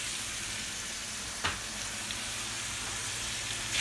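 Spices and diced tomatoes fry in oil in a pan for a tabsi lahm dish, a soft continuous sizzle with a couple of brief louder crackles as food is stirred, no talking.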